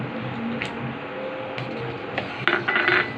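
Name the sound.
stirring hot chocolate with Oreo and chocolate in pan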